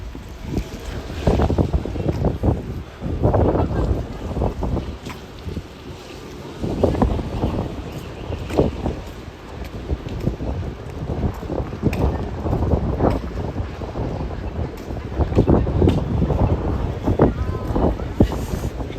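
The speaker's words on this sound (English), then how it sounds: "Just as I closed it, the wind returned." Strong wind gusts buffet the microphone on a city street between Midtown and Downtown, a loud rumbling roar that surges and fades in waves throughout, with a person talking over it at times.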